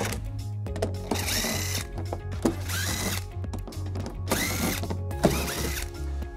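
Power tool backing screws out of plastic trim on a 2018 Toyota Sienna, several whirring bursts of the driver with pauses and clicks between them, close and loud.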